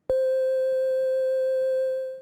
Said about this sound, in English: Which is actually just a simple sine wave through Spire going into a bunch of effects.